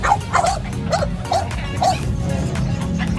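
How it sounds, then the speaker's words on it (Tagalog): Several bully-breed dogs at a pet market bark in short, sharp bursts over a steady low rumble of background noise, the barks loud and fairly close. "malakas lang yan tumahol"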